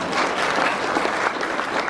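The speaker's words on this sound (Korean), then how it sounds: "큰 박수 부탁드립니다." Dense, loud applause from a large audience at an international academic conference marking Korea–Russia relations, continuous and even throughout.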